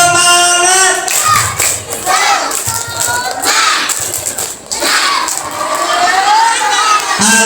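Children at a storytelling show with a puppet clap and cheer in a lively, continuous burst, with shouting voices and rhythmic hand claps filling the room under an adult's voice.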